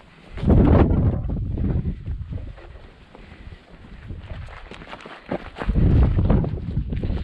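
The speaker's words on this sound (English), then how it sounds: "there's a nice breeze out here too" Gusty breeze on a hiking trail from Fira to Oia on Santorini, rushing loudly over the microphone in two strong swells with a calmer stretch between them.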